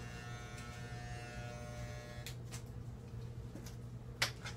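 Electric clippers shave a woman's head during a self-done buzzcut, giving a faint, steady motor buzz throughout with a few light ticks and one sharp click near the end.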